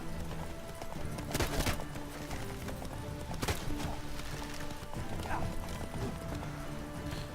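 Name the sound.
horse galloping, The Witcher 3 video game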